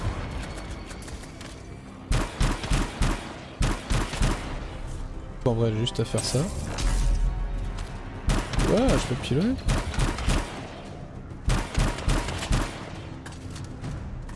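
Blaster fire in the video game Anthem comes in repeated rapid bursts and volleys, alongside louder booms, while a person talks over much of the action.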